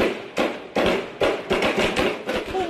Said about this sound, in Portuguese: Um morador gravou o momento dos tiros que atingiram esse carro branco